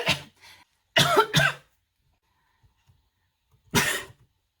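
Several harsh coughs close to the mic: a short one, a quick pair, then a pause before one more forceful cough.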